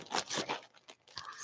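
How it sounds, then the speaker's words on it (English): A plastic bag crinkles and crunches in a few quick bursts, close and fairly quiet, as it is handled and tossed away. "I'll throw that plastic bag away."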